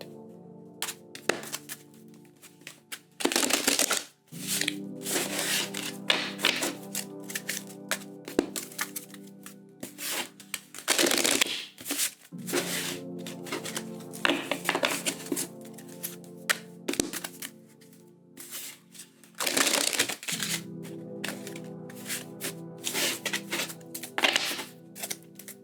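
Tarot cards shuffled by hand in three rounds, each a burst of dense riffling and flicking with short pauses between, close and fairly loud over a steady low background hum.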